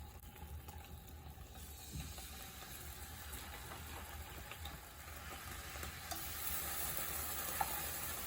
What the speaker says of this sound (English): So I just need to brown my spam.